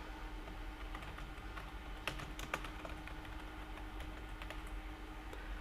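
Steady typing on a computer keyboard as a course name is entered in a Moodle setup, with rapid, irregular light key clicks over a constant low background hum, near and moderately quiet, with no voice.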